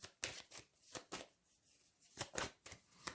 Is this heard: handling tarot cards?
yes